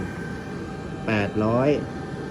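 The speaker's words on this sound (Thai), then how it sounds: "ตอนนี้ผมเปิดแอร์อยู่ ที่อุณหภูมิ 25 องศานะ" An air conditioner set to 25 degrees, running from a battery through a 2,000-watt Souer inverter, gives a steady low hum throughout, with someone speaking briefly over it midway.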